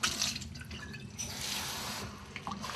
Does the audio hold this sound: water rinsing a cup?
yes